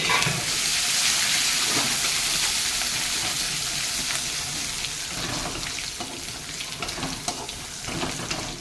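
Chopped garlic fries in hot oil with a loud, steady, close-up sizzle that hisses continuously, flecked with small crackles and spits throughout.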